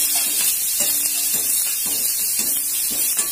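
Urad dal and curry leaves sautéing in oil for cabbage poriyal, a continuous close hiss and sizzle with a regular rhythm of spatula stirring strokes about every half second; no talking.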